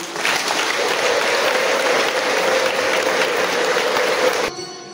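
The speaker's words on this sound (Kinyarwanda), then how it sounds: "Dushimire Imana tuyiha amashyi y'impundu." A congregation applauds at a church ceremony in Kibeho where Pallottine sisters take perpetual vows: steady, dense clapping for about four and a half seconds that then stops abruptly.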